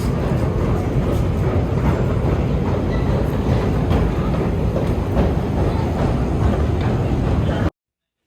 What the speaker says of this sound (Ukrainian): Ми приїхали на станцію метро Олімпійська